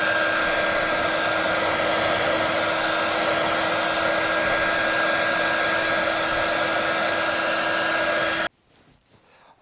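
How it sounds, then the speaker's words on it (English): A heat gun blows steadily and loudly, up close, while shrinking heat shrink tubing onto a crimped LiFePO4 battery cable, a continuous whooshing hum that cuts off abruptly near the end. "so let's get some heat shrink on here next."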